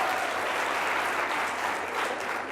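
Steady, dense applause fills a live leadership event hall, a sustained audience clapping evenly throughout with no voices standing out.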